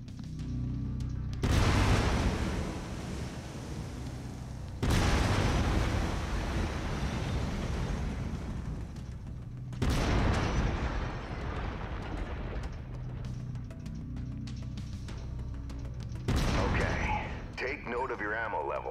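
A mech's autocannon fires in MechWarrior 5, heavy booming bursts each followed by a long rumbling decay, four separate volleys spaced several seconds apart over a continuous mechanical drone.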